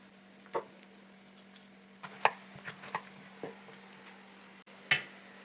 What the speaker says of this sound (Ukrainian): Тепер нарізаємо помідори